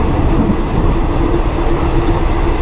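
Continuous rumbling and rattling heard from inside a Thai long-distance train bound for Chiang Mai during rain, a dense, even roar with no voices.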